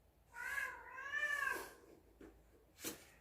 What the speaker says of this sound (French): Il y a le chat de la voisine qui nous embête un petit peu